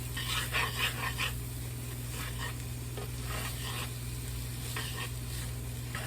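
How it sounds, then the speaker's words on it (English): Rice casserole mixture being stirred in a pan, soft scraping strokes in irregular bursts over a steady low hum with a faint sizzle underneath. "Just kind of stir that around."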